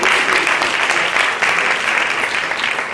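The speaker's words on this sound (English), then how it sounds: "Give them another hand of round of applause." An audience at a nonviolence commemoration event claps loudly and steadily in a continuous, dense round of applause with no pauses.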